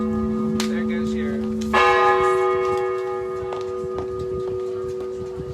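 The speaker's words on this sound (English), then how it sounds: "Wait for the bells." Church bells ring out with steady tolling strikes and sustained overlapping tones, loud and close, swelling fuller partway through and then fading, with faint voices underneath.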